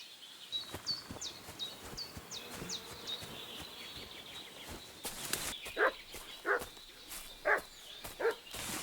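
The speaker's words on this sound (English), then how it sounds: "What's that dog making such a fuss about?" A dog in the video game Kingdom Come: Deliverance 2 barks in a short run of evenly spaced, moderately distant barks, while birds chirp and insects buzz around it.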